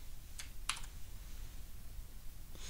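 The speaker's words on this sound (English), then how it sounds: "pick that one, click save all changes" Two or three quick, faint computer mouse clicks sound close by against a quiet background as changes are saved.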